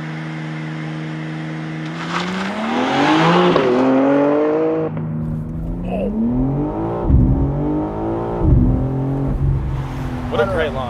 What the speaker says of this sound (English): Okay, Yuri, give me a real launch here.